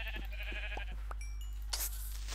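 A sheep in the Minecraft video game gives a short, nasal bleat or two over a steady low background hum, with no talk.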